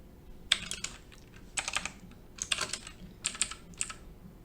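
Keys tapped on a computer keyboard in short quick bursts of clicks separated by brief pauses, close and fairly quiet with no talking.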